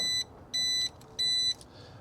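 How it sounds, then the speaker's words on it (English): Three short, bright electronic beeps from a Mercedes W211 car alarm confirming lock, in an even rhythm, each about a third of a second long, with brief quiet gaps between them. "should have 3 beeps when we lock"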